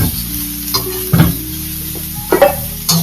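Ingredients for mint thogayal sautéing in a pan at home, with a steady low sizzle and several scraping stirs as a spoon moves through the mix, close and alone without any talk.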